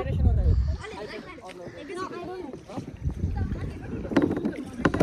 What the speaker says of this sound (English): Guys, we are here kayaking